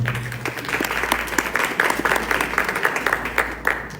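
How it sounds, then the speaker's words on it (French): An audience claps for two young women dancers at a women's creative arts evening, a steady, even patter of many hands lasting a few seconds over a faint low electrical hum. "Je vous prie d'applaudir ces deux jeunes dames qui ont merveilleusement bien dansé ce soir"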